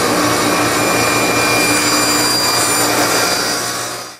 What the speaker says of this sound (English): I'm just going over the table saw and cut them off